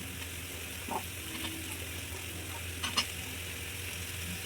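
Potatoes sizzle and fry steadily in a pan with cabbage for a Bengali-style vegetable polao, with a couple of brief clinks of a utensil against the pan.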